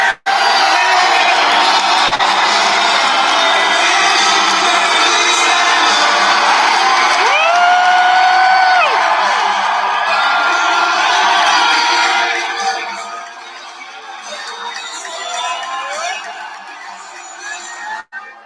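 A large crowd cheering and whooping at a Trump rally entrance in New Hampshire, loud sustained roar with yells and shouts, easing to a lower murmur near the end.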